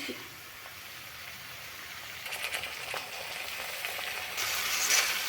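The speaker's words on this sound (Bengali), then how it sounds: "আদা রসুন তেলে কিছুক্ষণ নাড়াচাড়া করে নিয়েছি।" Ginger garlic paste fries in hot oil for an egg masala curry, a steady close sizzle with occasional stirring scrapes that swells louder toward the end.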